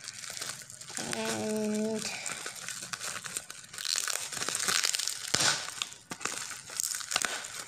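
Plastic packaging crinkles and tears open up close, with crackling rustles in bursts; someone speaks briefly and a short tone sounds early on.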